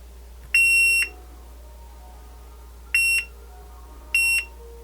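An Ikea Stenkol device gives three sharp, high electronic beeps with no one talking, the first about half a second long and the other two shorter, spaced irregularly over steady low hum.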